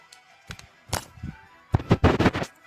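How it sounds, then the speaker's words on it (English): A handgun magazine is handled and pulled out, giving a few sharp metallic clicks and knocks close up, sparse at first, then a quick cluster of louder rattling clacks near the end, with no talking. "I'm about to take the magazine on my gun"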